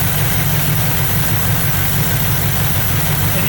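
A car engine idles steadily during vacuum gauge diagnostics, a continuous loud low rumble with an even pulsing throb and no pauses throughout.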